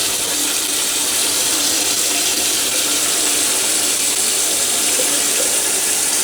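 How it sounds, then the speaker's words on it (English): Cold tap water runs steadily into a sink to wash homemade butter made from raw milk, a loud, continuous close-up splashing rush with no pauses and no talk. "now we need a very cold water and we need to wash our butter."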